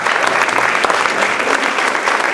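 A crowd at a hypnosis stage show breaks into a short, loud burst of dense clapping.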